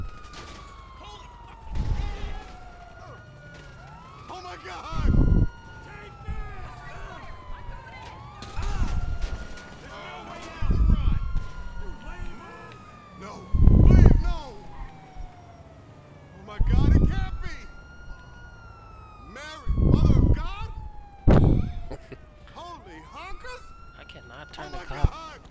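A police car siren from GTA 5 wails in repeated rising and falling sweeps across the whole stretch, moderately loud, broken by sharp in-game bangs and thuds, with someone talking over it.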